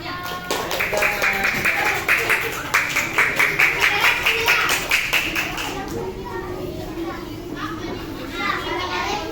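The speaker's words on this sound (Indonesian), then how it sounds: "Berikan tepuk tangan untuk temannya." Children in a classroom clap together for a classmate, with rhythmic close claps for several seconds under lively kids' chatter and voices, then ongoing talk as the clapping ends.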